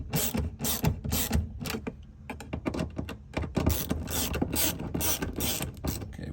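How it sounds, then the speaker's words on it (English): Shore power cord fittings on a 30-amp Sprinter van setup are tightened down, giving a rapid, continuous series of close ratcheting clicks and metallic taps with no talking. "So I'm going to tighten these down,"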